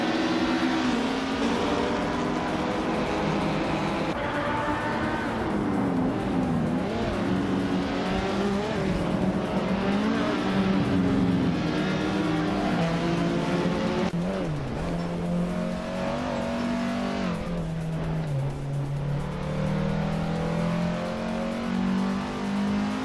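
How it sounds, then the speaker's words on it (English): Race cars, among them a vintage McLaren M1B, roar continuously at racing speed, engine pitch rising and falling through shifts and passes, with occasional tire squeal; loud and unbroken throughout. "Dale Earnhardt is driving a vintage McLaren M1B and is currently in 6th place."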